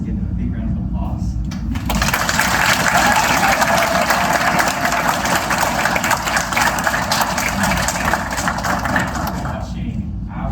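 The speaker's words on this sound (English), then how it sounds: "I'd like to just give them a big round of applause." An audience at a school natural science presentation breaks into applause, a loud, dense wash of clapping that swells in quickly and holds for about eight seconds before dropping away.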